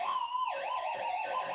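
Electric guitar played through an amp with sustain, using tremolo bar swoops to imitate a police car siren, a loud wavering wail that dips and rises, heard alone.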